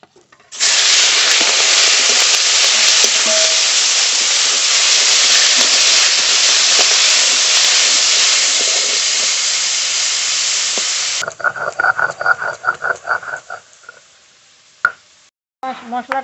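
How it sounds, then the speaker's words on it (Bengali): Shrimp fry in a hot pan with a loud, continuous sizzle that cuts off abruptly, followed by scattered crackles, pops and scraping sounds as the sizzle dies away. "চিংড়ি মাছগুলো ভেজে নেবো"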